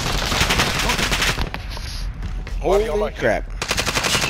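Fast automatic gunfire from an assault rifle or LMG in a video game, loud rapid bursts that pause briefly while someone speaks, then resume.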